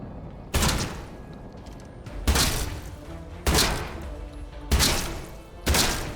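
Gunshots in Atomfall ring out as five heavy, spaced blasts, each with a booming tail, close and loud against a quiet in-game background.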